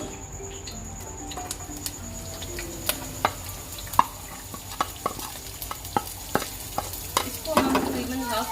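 Hot oil sizzles softly in a pan for macaroni and spaghetti, with a spoon clicking and scraping against the metal at a steady, ticking rhythm, building to a brief louder fry near the end.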